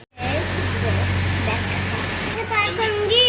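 A dense, steady hiss of heavy rain fills the scene, with voices talking over it intermittently.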